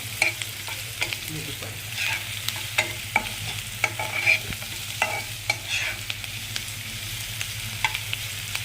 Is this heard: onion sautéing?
yes